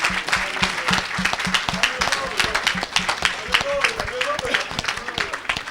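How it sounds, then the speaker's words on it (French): A church congregation at a Haitian revival service bursts into loud, sustained applause and cheering for Jesus of Nazareth, dense clapping running steadily throughout with voices shouting over it. "Donne une grande acclamation à Jésus de Nazareth."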